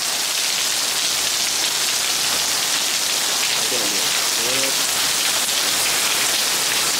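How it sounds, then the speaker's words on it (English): Heavy rain pours steadily onto a balcony with a dense, constant hiss of water hitting a hard surface, loud and unbroken throughout. "Look how much rain. Our balcony is soaked."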